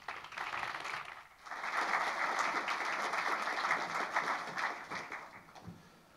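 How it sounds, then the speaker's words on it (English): After a brief lull, an audience at a ministerial mental health summit breaks into steady, moderately distant applause for a speaker that holds evenly and then begins to thin out. "if we could have a round of applause for Mark Pearson"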